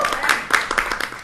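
Hands clap in a small group during a talk show conversation about Paralympic athletes, a brief run of close, uneven claps with voices mixed in.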